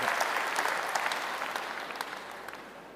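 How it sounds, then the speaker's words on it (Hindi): An audience at a health and happiness talk claps steadily and densely, a sustained wash of applause that holds at an even level and fades slightly toward the end. "अच्छा चलो, ताली बजाना तो आ गया।"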